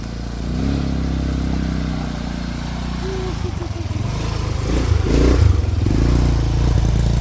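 An ATV quad bike ridden around a resort near Mysore, its engine droning steadily and close throughout, growing slightly louder toward the end, with no talk over it.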